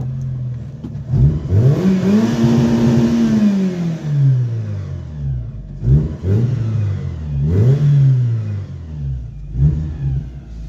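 A rebuilt rear-engined car's engine starts and revs loudly up close, with a long rising and falling rev followed by several shorter blips of the throttle; no talk.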